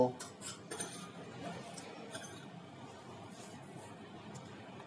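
A spoon mixes boiled mashed potato with soaked poha in a bowl for ragda patties, giving a few quiet clinks and scrapes at first, then soft, low stirring noise, close and faint.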